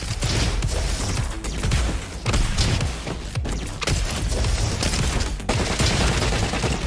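Continuous gunfire and grenade blasts fill a fast-paced RoboQuest video game fight. Dense rapid shots and thumping explosions sound nonstop and loud throughout, with only brief dips between bursts.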